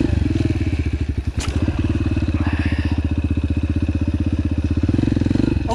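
A motorcycle engine during wheelie practice: loud, close, rapid pulsing exhaust beats held at a steady rev. There is a brief clatter near the start, and faint voices sit underneath.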